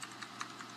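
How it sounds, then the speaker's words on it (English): Soft, quick keystrokes tap on a computer keyboard in an irregular patter, faint and close against a steady background hiss. "she's typing me something."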